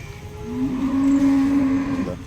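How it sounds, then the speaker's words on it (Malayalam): A single long, drawn-out moo from an HF dairy cow rings out close by at a busy cattle market, rising and holding steady before trailing off. "ഇനി ജസ്റ്റ് പശുക്കളെ കാണാം ഫസ്റ്റ് എച്ച് എഫ് ആണ്"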